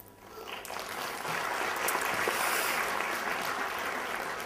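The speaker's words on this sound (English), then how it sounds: "give a big applause to Microsoft student partners who are doing this community booth this year" Conference keynote audience at DevReach 2011 in Sofia applauding, a soft wash of clapping that swells after the first second and holds steady, fairly distant.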